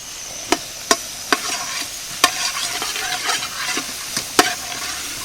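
Chopped onion fries in a pan with a constant soft sizzle, punctuated by several sharp clacks of a utensil stirring against the pan.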